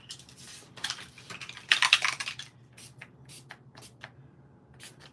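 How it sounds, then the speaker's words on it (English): Several short hissing bursts of shimmer spray onto a paper collage card, close and fairly loud, with a longer burst in the middle and quick spritzes after, over a quiet background. "And then some shimmer spray."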